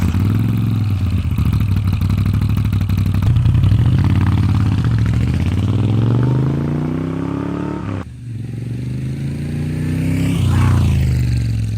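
A Moto Guzzi V7 Stone Corsa motorcycle engine rumbles loudly and close through its dual exhausts, revving up and down with a brief drop in the throttle before climbing again.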